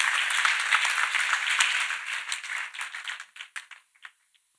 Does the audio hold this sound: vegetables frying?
no